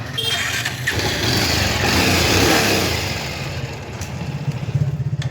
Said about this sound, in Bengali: ইঞ্জিনের সাউন্ড আলহামদুলিল্লাহ ফ্রেশ আছে। স্টার্টটা দেখাইতেছি, দেখো।